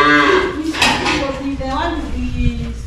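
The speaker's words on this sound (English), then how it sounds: "This one now is a very fierce bull." A fierce bull on a smart farm in Murang'a, Kenya gives a long, deep moo that carries across the clip, with voices and some clinking farm noise around it.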